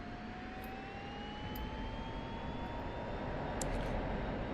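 F-16 jet engine roaring at full throttle for takeoff in a flight video game, a steady loud broadband rumble with a slowly rising whine, continuous throughout with no talk.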